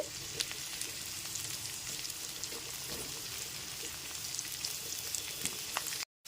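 Chopped beans fry and get stirred in a pan for homemade egg chow mein, giving a steady, dense sizzle with light scraping throughout before it cuts off abruptly at the end; no one speaks.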